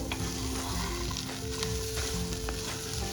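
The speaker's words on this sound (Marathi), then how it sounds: "आता आपण तो पण एकदम मसाल्यात अगदी व्यवस्थित परतवून घ्यायचंय" Rice sizzles and fries steadily in masala in a pan for lima bean rice, with a continuous close crackle and occasional stirring scrapes throughout.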